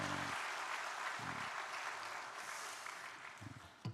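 A church congregation at a Busan Baptist Church Sunday service applauds to welcome a visiting professor, a soft, fairly distant patter of many hands that thins toward the end, with a few low thumps mixed in.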